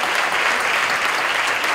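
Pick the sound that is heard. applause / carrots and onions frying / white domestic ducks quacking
applause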